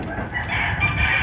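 A rooster crows briefly on a labuyo and bantam chicken farm, a short strained call heard close amid a dense background of other fowl.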